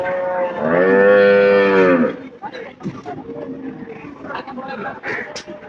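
At a cattle market a cow lets out a single loud, long moo nearby, then people talk over the background murmur of the crowd.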